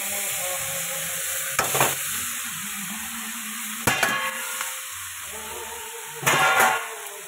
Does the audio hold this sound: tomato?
yes